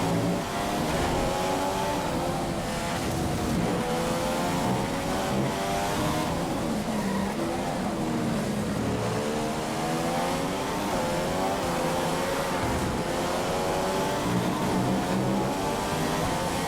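A Formula 1 car in the F1 2015 racing game accelerates hard during the Australian race, its engine note climbing and falling through repeated gear changes as a loud, continuous high-pitched whine.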